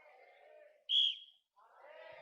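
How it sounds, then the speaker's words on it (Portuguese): A single sharp whistle blast is blown at a Baptist church service, short and fairly loud, with talk and crowd murmur before and after it. "Se eu apitar uma vez, vai dizer o quê?"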